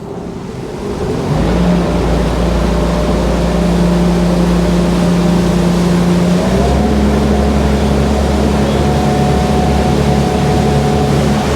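A passenger ferry cruising across Sydney Harbour on a sunny day: a loud, constant engine drone with a low hum and tonal whine, shifting pitch partway through, over rushing water and wind noise.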